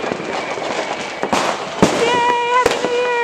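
New Year's Eve fireworks going off outdoors around a house: a continuous crackle with several sharp bangs and whistling, rising shells, some near and loud, others distant.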